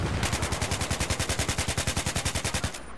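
Rapid automatic gunfire from a Battlefield 3 match on PC, a single sustained burst of evenly spaced shots for about two and a half seconds, loud and close with no talking.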